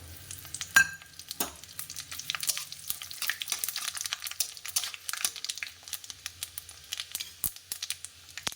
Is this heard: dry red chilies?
yes